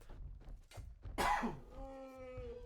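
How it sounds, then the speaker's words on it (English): A man coughing near the microphone during a live game commentary, one sharp, harsh cough burst followed by a short voiced throat sound, amid quieter background noise. "I just had to cough a bunch"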